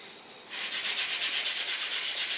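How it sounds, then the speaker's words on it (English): Sandpaper rubbing along the leading edge of a model glider wing for the Focke Wulf FW P.1 build, a steady run of close, rhythmic back-and-forth strokes starting after a brief quiet moment. "I'm going to sand in a little bit of Phillips entry on the leading edge here"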